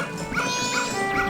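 A dog attacks in Elden Ring with three rhythmic, evenly spaced growling yelps over a steady hum of game music and ambience.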